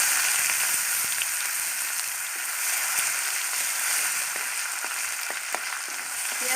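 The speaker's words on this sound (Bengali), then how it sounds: "ডিম ভাজা তেলের মধ্যে পেঁয়াজ কুচি ফোড়ন দিয়ে দেবো" Chopped onion sizzling in hot oil left from frying duck eggs in a rural Bengali kitchen, a steady crackling hiss with scattered sharp pops, close and continuous without talk.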